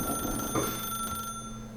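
A telephone rings in the video game The Stanley Parable: a steady, electronic bell-like tone holds through the whole moment, clear and fairly close, with no talking over it.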